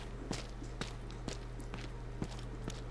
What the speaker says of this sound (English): that the footsteps are a lot louder, they have more depth to them